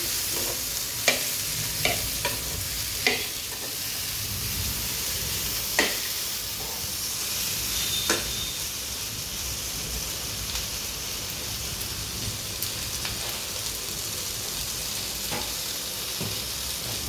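Fennel seeds and spices dry-roasting in a pan, a steady soft sizzle and crackle with scattered clicks of stirring against the pan, close and moderately loud, with no talk.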